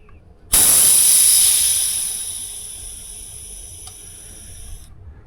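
On a Mack truck in a shop, the air compressor lets out a sudden loud hiss that slowly tapers off over a few seconds, then cuts out abruptly.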